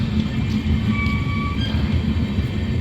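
The pantry car of the Amrit Bharat Express, a long-distance train on its first commercial run from Kamakhya to Charlapalli, rumbles past close by with a loud, steady roar of wheels on rails.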